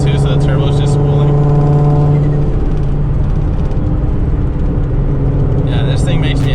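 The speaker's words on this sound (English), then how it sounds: "Just hear the turbo. Dude, those noises going uphill too, so the turbo's just spooling." A boosted Z car climbs uphill under load, its turbo spooling into a loud, sustained whine over a droning engine. Whistle-like bursts appear at the start and end, and someone talks over it.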